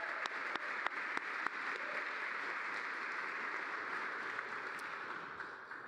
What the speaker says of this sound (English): Let's give the team at Center State a round of applause.